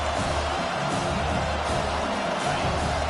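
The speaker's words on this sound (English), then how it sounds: "This crowd bringing the energy and noise early." Dense, roaring crowd noise from a large college football stadium in an NCAA video game, a constant wash of many voices with no pauses throughout.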